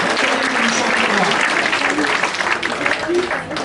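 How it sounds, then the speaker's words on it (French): A festive evening crowd at a rosary pilgrimage gathering claps for a singer, dense continuous applause filling the room at close range with some voices mixed in. "On peut l'applaudir, on prend pas la parole."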